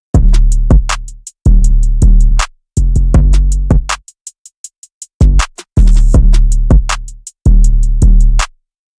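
Hip-hop drum beat in an emotional piano-loop style, with heavy sustained 808 kicks accented on certain hits, layered with crisp hi-hats; the full pattern plays loud and alone, with a brief hats-only break in the middle.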